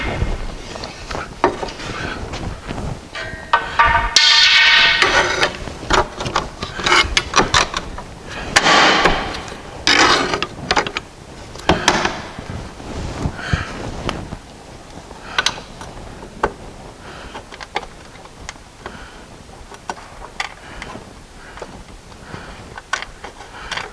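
Engine bolt being tightened while a gearbox is fitted to an engine: a scattered run of metallic ticks, clicks and ratchet-like clatter, close by, with irregular bursts and no speech.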